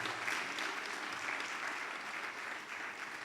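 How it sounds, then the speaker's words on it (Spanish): Steady applause from a congress audience, a dense even wash of clapping that holds at the same level throughout without any speech. "Sí, fuerte, un aplauso."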